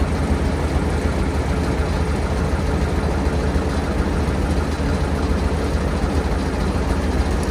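A Lincoln SA200 welder's engine idles cold with its muffler cut off, a loud, steady, unbroken low rumble filling the whole stretch with no talking.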